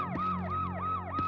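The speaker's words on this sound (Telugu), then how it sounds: "ఏంట్రా అది గీగీ అంటుంది? అంబులెన్సా?" An ambulance siren wails in a repeating rising-and-falling pattern, loud and continuous, with three full sweeps and a low engine drone beneath.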